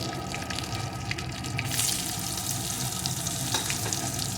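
Chopped onion fries in oil with whole garam masala, giving a steady, moderate crackling sizzle throughout with occasional faint stirring clicks.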